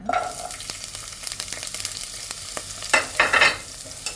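Red onions fry in a little oil, a close, steady sizzle with light scraping as they are stirred, and louder bursts of spatula clatter near the end.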